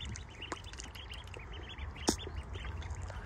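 Young ducklings quack and peep in quick, bright bursts close by, a steady chatter of small calls with one sharper knock partway through.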